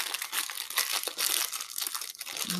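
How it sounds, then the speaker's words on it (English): Small plastic bags crinkle and rustle steadily while a Jupiter JCL1100S intermediate clarinet is unboxed, a close, continuous crackling crunch with no speech. "lots of little plastic bags here"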